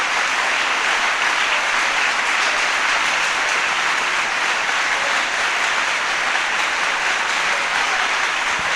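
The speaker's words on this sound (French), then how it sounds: "I want you to clap because it is God's gain." A church congregation applauding together at a memorial service, dense sustained clapping that holds loud and even for several seconds with no speech over it.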